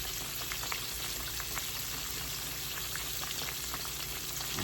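Mustard-coated pork chops fry in a pan with a dense, even sizzle and scattered light pops, holding at a constant level throughout and free of speech.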